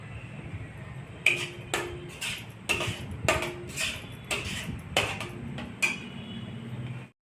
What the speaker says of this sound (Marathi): आता जिरे छान तडतडले आहेत